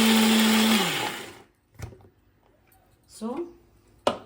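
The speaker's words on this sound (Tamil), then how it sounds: "இன்னும் கொஞ்சம் அரைக்கிறனா கூட அரைச்சிக்கலாம்" A mixer grinder whirs loudly while grinding mango chutney, then winds down and stops within about a second, leaving a few short clicks and faint voice sounds in the quiet.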